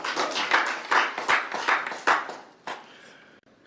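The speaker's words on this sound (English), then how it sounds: "I think that deserves a round of applause." A round of applause at a council meeting, a small group clapping in uneven bursts that swell and fade, thinning out to a few isolated claps before stopping.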